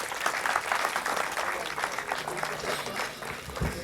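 Applause at a farewell handover ceremony for a departing sub-prefect in Koki, with a steady crowd clapping close by and murmured voices mixed in throughout.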